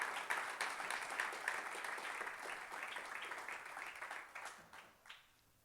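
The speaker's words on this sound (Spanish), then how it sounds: "démosle un aplauso al Señor" A church congregation applauds during a sermon, a dense, steady wash of many hands clapping at moderate volume that thins and fades out over the final second.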